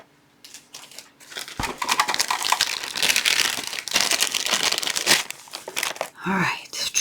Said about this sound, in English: We're going to put tear and tape right here because we want it to be strong.